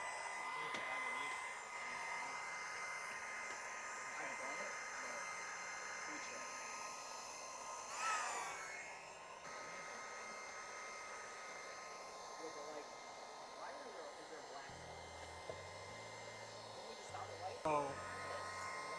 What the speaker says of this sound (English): Now we hit it with a heat gun.